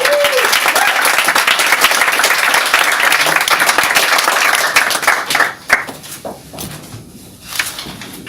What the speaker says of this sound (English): A hot round of applause for Magoo